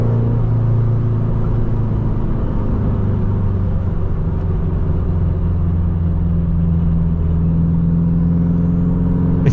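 A turbocharged car engine runs steadily and loud and close, with a constant rumble and a whirring hum throughout and a faint rising whistle near the end.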